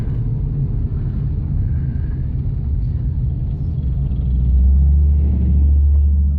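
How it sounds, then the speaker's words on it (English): Military tanks passing on a road, a heavy low rumble that swells as they draw near, loud and sustained, with no talking. "Those tanks are big."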